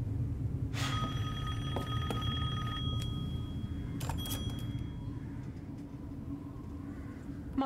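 A telephone rings in the horror video game Resident Evil Village, a bright electronic ring in two short bursts over a low, steady rumble of game ambience.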